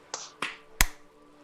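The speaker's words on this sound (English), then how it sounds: "the count of 3, everybody clap." Three separate sharp hand claps or snaps, spaced evenly on a count, each short and crisp against a quiet background, from participants in a recorded podcast-style discussion.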